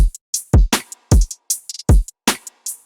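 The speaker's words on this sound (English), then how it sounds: "The drums sounds like this." Punchy boom bap drum samples in a 90s hip-hop style at 155 BPM, deep kicks alternating with crisp snares and short hi-hat ticks in a tight, dry pattern.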